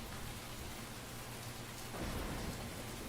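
Steady heavy rain hisses throughout, joined by a deep thunder rumble that swells in the second half, a dark storm ambience in a narrated horror story.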